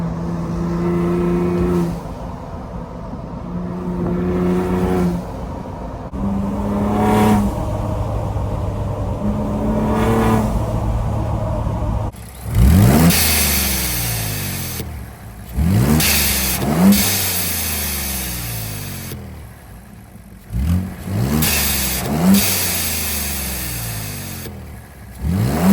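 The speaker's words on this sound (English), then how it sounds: "Now let's see what it sounds like when we brake boost." A Ford EcoBoost engine fitted with a $14 mod is brake boosted, with loud repeated revs that rise and fall, sharp rising whooshes and sudden cut-offs, heard close and with no talk.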